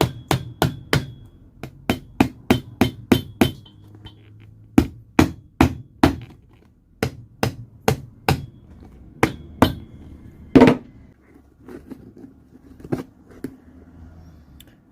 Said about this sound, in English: hammer through these nails and pull them out from the inside.